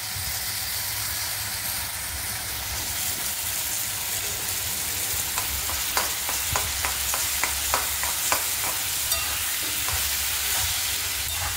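Ridge gourd fries in a pan with cumin and Kashmiri chili powder, a constant hissing sizzle joined midway by a run of sharp, rhythmic spatula scrapes and taps.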